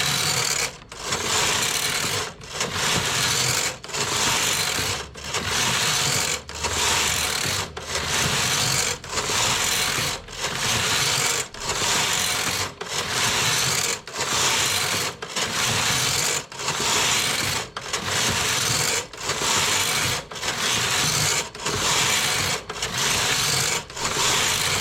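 An Eugene 830 knitting machine working jacquard lace, its carriage swept back and forth in steady regular passes, each a rasping slide followed by a brief pause, close and even, repeated about fifteen times without talk.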